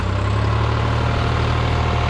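A new 55-horsepower New Holland T580B tractor, about a month old and fitted with a leveling blade, runs with a steady, loud engine hum and a low rumbling throb that holds evenly throughout, with no talking.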